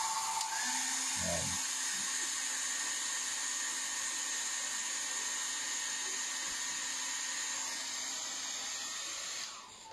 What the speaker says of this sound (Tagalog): Ito. Hair blower.